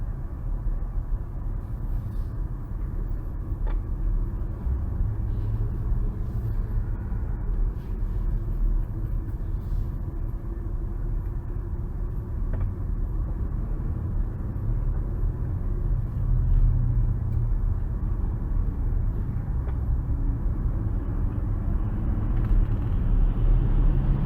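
Steady road rumble of a car driving past close to a black truck on an icy road, a continuous low engine and tyre drone that swells slightly near the end, with no voices.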